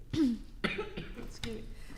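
A rough, hacking smoker's cough followed by a couple of smaller throaty coughs, fairly close.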